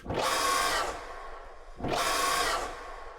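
Two harsh, buzzing electronic bursts made from processed raven call samples, each about a second long, separated by a short pause, like a processed alarm tone.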